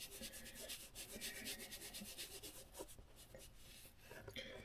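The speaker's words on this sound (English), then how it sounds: "Polishing chrome." Chrome on vintage Hoshino Kougyou drum hardware is rubbed and polished by hand, producing soft, close, repetitive scrubbing strokes at a quiet level.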